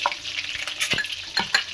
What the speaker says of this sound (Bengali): এখানে ডিমটা ততক্ষণ ভাজা হোক আমার